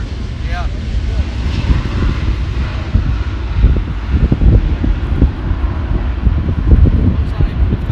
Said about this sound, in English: I get to see a 380 take off